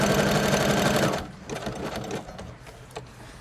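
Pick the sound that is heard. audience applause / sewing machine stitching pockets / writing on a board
sewing machine stitching pockets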